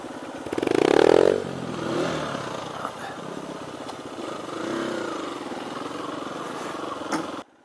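A dirt bike engine revs loudly near the start, then settles into a steady mid-level drone as the rider shifts up into second gear and rides on, ending abruptly.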